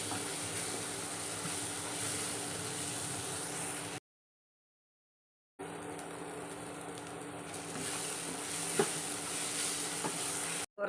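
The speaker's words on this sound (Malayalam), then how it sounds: "നന്നായിട്ടൊന്ന് വഴറ്റിയെടുക്കുക" Masala sautéed in a pan gives a steady, loud sizzle and hiss with occasional scraping stirs, broken by a brief silent gap before the frying resumes close up.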